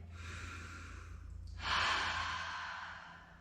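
A deep cleansing breath during a yoga session: a soft, airy inhale followed by a louder, longer sighing exhale, close and alone.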